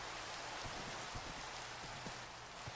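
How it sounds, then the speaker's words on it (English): Steady rain falls in a Minecraft game world, a soft continuous hiss with faint scattered drops, quiet and alone with no voices. "Boy, I wish this rain would go away."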